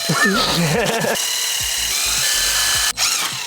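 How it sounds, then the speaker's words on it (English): A power drill whines and grinds through material at close range while wiring a BMW B58 engine, its pitch wavering, then a steady high motor hum continues with faint bumps. "that drill bit is gone. That took a little too long."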